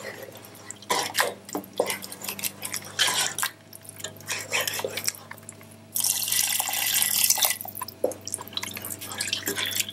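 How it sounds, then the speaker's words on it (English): Water pours and splashes into a pot while making cream of mushroom soup, coming in uneven spurts and trickles before a steady, louder stream near the end, close by with a low kitchen hum beneath. "I'm going to add about 4 to 5 cups of water"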